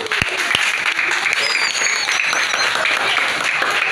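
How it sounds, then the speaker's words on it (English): A room of elementary school students at a workshop in Shulin claps for the presenting team. After a couple of sharp early claps, dense, lively applause continues steadily and loud nearby. "Let's give them a round of applause."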